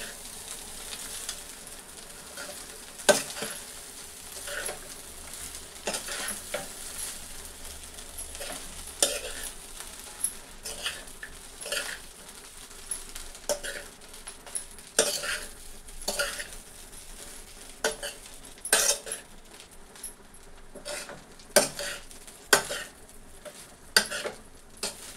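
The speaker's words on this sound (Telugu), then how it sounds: "రైస్ వేసుకుని స్టవ్ అయితే సిమ్లో పెట్టుకుని కలుపుకోవాలండి స్లోగా." Basmati rice for egg rice being stirred gently with a spoon in a pan over a low flame, soft scraping and stirring strokes with faint sizzling, close and steady, with no talk.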